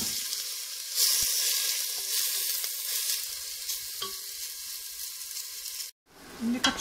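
Pieces of meat sizzle and fry steadily in a pot as the base for a soup, a close hissing crackle with a few stirring clinks, cutting off briefly near the end.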